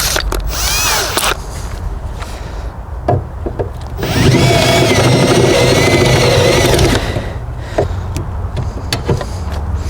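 A power drill bores a hole in metal on a 1976 Ford Granada during a backyard Barra engine swap, a loud sustained grinding whine for about three seconds mid-clip, framed by shorter bursts of drill noise and clanks.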